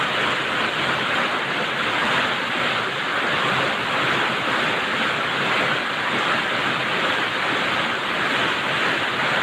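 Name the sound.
heavy rain pouring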